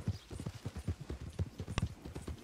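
Horse hooves clip-clopping at a steady walking rhythm in the video game Red Dead Redemption 2, close and moderately quiet, with one sharper knock near the end.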